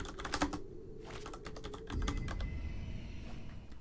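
Clattery typing on a computer keyboard, a quick cluster of close key presses followed by more scattered taps over a low background hum, with no talking.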